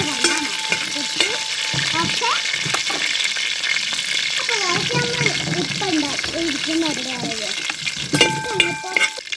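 Curry leaves crackle and sizzle in hot oil in a pan with a steady frying hiss and some stirring, while a person talks over it.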